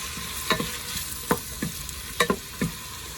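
Onions frying in a pan and being stirred, a soft steady sizzle with a handful of crisp spatula scrapes, fairly quiet and close, no voices.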